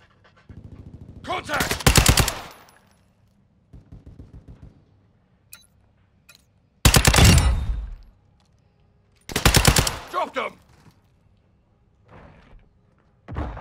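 Machine gun fire in a video game comes in loud, rapid bursts, each lasting about a second, separated by quieter pauses with softer scattered shots and background noise.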